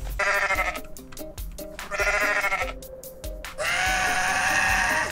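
Goat bleating in the video game Goat Simulator, several loud, drawn-out harmonic bleats in a row, the last one held longest, alone with no talk.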